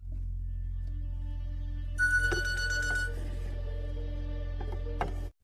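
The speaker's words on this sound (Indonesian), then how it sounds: "rupanya dering HP itu hanya dering sebuah alarm" A mobile phone alarm rings in a film scene, entering after about two seconds as a bright, steady electronic ringtone over a constant low hum and continuing until the clip cuts off abruptly.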